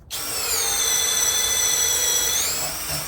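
A Greenworks 24V cordless drill spins up on high and runs at high speed with a steady whine, boring a 1/4-inch Diablo self-feed bit into wood close by for about three seconds before easing off.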